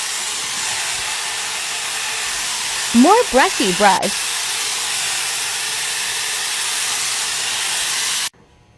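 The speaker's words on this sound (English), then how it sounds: "So I broke down and bought the Dyson hair dryer and styler." A Dyson hair dryer and styler with a brush attachment blows on wet hair, giving a steady, close airy whoosh that runs throughout and cuts off just before the end, with a brief voice speaking over it midway.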